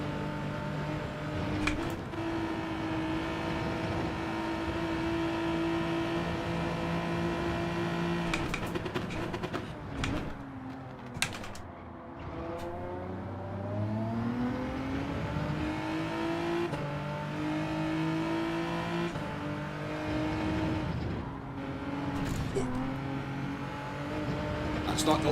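A Lamborghini race car on soft tyres in Gran Turismo 7, racing seven laps at Sardegna Road Track A, its engine revving up and down through gear changes, with sustained whining tones that dip and climb repeatedly, loud and continuous.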